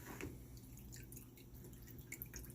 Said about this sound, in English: first you see me here cleaning my rice water before I get started